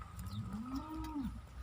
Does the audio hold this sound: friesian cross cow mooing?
yes